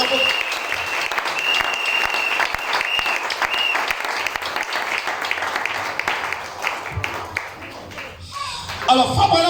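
A church congregation claps loudly and steadily through a Sunday service, dense sustained applause mixed with voices, fading toward the end.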